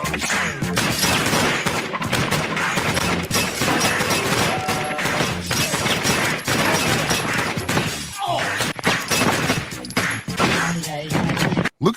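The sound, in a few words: gunfire in a 90s movie action scene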